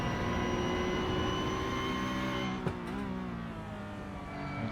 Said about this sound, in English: A lot of noise in the cockpit of the Porsche.